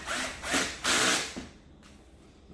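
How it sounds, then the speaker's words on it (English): Cordless drill with torque set low driving screws into the back panel of an LED television: three short, close whirring bursts, each under half a second, then quiet. "Turn my torque on my cordless drill down to about 4"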